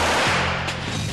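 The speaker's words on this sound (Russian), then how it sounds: "За одну секунду пистолет-пулемет 2000 способен выпустить 10 выстрелов" Rapid bursts of PP-2000 submachine gun fire crack loudly and close in a brief, dense volley.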